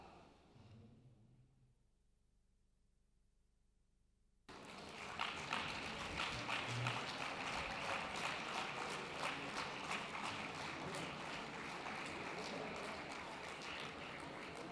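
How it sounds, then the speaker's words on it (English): Audience applause at an Education International event: after a quiet pause of about four seconds, steady clapping breaks out in a large hall and keeps going at an even, fairly loud level to the end. "You deserve that applause"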